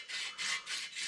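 Aluminum foil scrubbed back and forth over metal, three rhythmic rasping strokes, close and steady, each a harsh broadband scrape.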